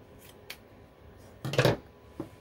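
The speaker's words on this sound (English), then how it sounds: "And cut the fabric about this much." Scissors cut fabric while a round punch needle project is mounted for display, giving a few quick close snips with one louder, longer cut in the middle, no speech.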